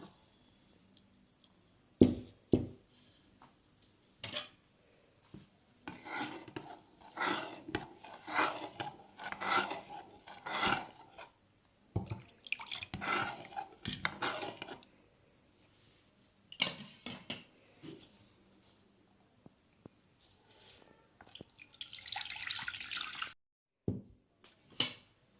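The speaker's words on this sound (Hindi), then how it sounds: "सूजी को हम धो रहे हैं" Semolina being washed in water while preparing sooji kheer, heard as irregular splashing, swishing and dripping bursts at close range, with a brief hissy rush near the end and no talk.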